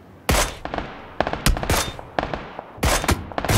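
Rapid bursts of automatic gunfire in a PUBG solo match ring out loud and close, several volleys with short gaps between them and no voices over them.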